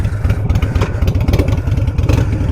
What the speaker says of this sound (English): I got myself a Harley 883